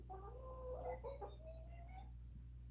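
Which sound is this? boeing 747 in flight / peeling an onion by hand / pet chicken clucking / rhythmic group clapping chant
pet chicken clucking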